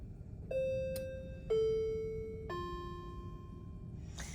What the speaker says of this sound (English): Let's see if we can hear the doorbell.